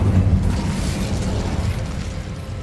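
Fire spell cast in the video game Hogwarts Legacy, a sustained roaring, rumbling burst that stays loud and dense for its whole length, with no voices.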